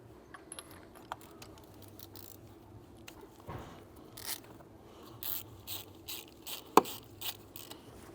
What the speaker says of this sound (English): start removing the old spark plugs using our 16mm socket